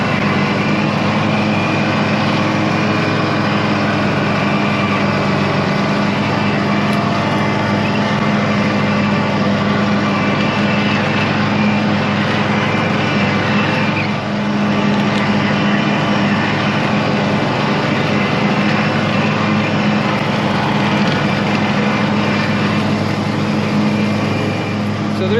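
A lawn mower drones steadily as it cuts long, freshly grown grass, a constant close engine hum with no pauses and no talking over it.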